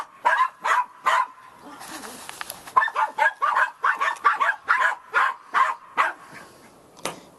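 Dogs barking repeatedly in rapid, rhythmic bursts with a few yips mixed in, fairly close and loud, continuing for several seconds with a brief pause near the end.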